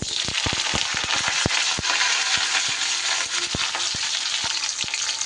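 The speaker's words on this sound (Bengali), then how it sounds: "সবার প্রথমে আমি উচ্ছেগুলোকে একটু ভেজে নেব" Bitter gourd frying in hot rice bran oil, a loud, dense, crackling sizzle with rapid popping spatters and a few sharp knocks, close and continuous, no talking.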